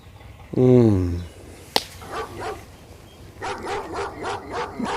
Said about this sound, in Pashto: ما د سپیانو اوازونه ډېر خوښېږي